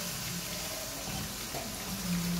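Water being poured into a pan with chili powder while making street-style chicken noodles, a steady running splash heard close and alone.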